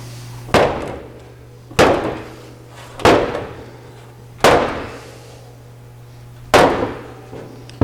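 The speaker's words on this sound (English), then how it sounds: "I'm going to hit it right here with the rubber hammer and see if we can get that to come down" A rubber hammer strikes an Austin-Healey 3000 body panel five times at uneven intervals, each a loud, close thud that rings briefly, with a steady low hum between blows and no talking.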